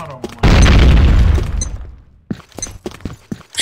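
A grenade explodes in a video game match, a loud broadband boom with a long decaying rumble, followed by smaller clicks and bursts of gunfire as voices talk over the action.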